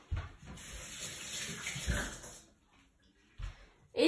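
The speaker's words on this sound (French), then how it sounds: "Et je verse 250 ml d'eau." Water is poured into a Cookeo pressure cooker for a salmon tagine, a soft continuous splashing stream lasting a couple of seconds, then quiet, followed by a faint knock and a brief clatter.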